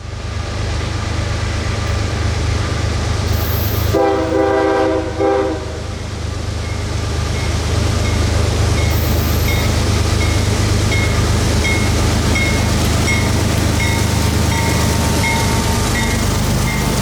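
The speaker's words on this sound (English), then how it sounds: "those two GEs are still working hard to get their train moving." Two GE diesel locomotives labor to start a freight train at Wildwood in Central Florida, with a steady loud engine drone throughout, a brief horn blast around four seconds in, and faint wheel clatter.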